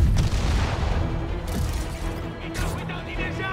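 Rocket explosions in a war video game, heavy booming blasts rumbling one after another close by, with a voice shouting over the battle noise.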